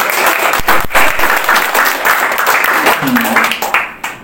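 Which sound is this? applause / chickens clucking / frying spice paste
applause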